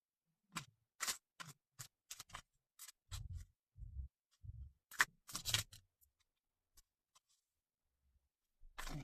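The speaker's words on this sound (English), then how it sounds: "My hand's not wanting to shuffle this deck." A deck of cards handled and shuffled in short, dry riffling bursts and taps, close and quiet, separated by pauses of near silence.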